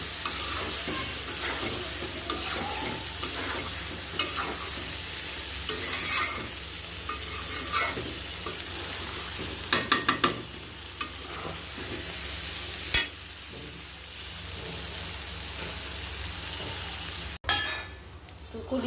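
Pieces of liver fry in a pan, a continuous close sizzle with frequent stirring scrapes and occasional metallic clangs and knocks against the pan, without talk.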